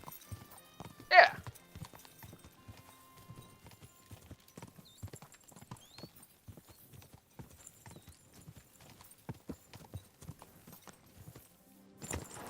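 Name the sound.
horse hooves clip-clopping in a video game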